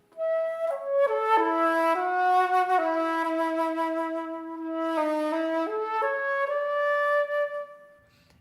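Solo flute playing a phrase of Köhler's Romantic Etude No. 13 with a broader, darker tone, long sustained notes with fuller breath and a slight airy edge, close and steady, no talking.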